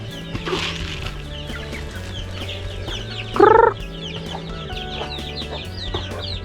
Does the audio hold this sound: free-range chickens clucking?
yes